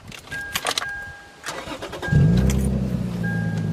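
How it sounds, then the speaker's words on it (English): Keys rattle and clicks, a short chime, then a Lexus IS300 drift car's engine cranks and catches, settling into a steady rumbling idle up close. "once I turn on the car here"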